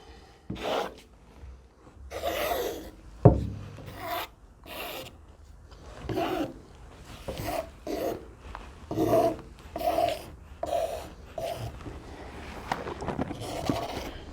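Wet poured paint is scraped off a canvas in repeated rasping strokes, a dozen or so short bursts with brief gaps between them, close and fairly quiet.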